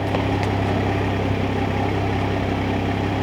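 Toyota Supra with a loud modified exhaust, the engine running in a steady low rumble with a few faint blips near the start; no sharp rev climb stands out.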